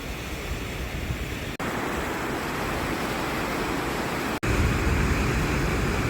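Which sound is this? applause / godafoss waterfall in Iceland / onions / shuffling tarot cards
godafoss waterfall in Iceland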